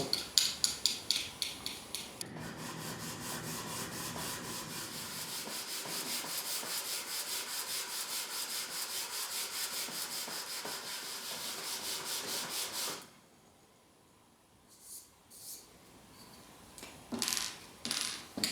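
A wooden guitar bridge is hand sanded in long, steady back-and-forth strokes, a close, continuous rasping rub that stops partway through, followed by a few light taps and handling knocks.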